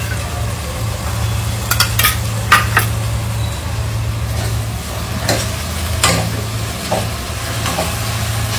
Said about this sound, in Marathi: तर मी आता ही पेस्ट टाकून घेते.